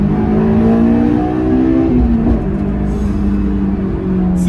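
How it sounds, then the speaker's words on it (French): Honda S2000 engine revving hard while downshifting to second gear, the loud raw intake note climbing and dipping as VTEC engages, close and continuous with no talk. "C'est downshift là en deuxième. Tu sens vraiment le VTEC kick in."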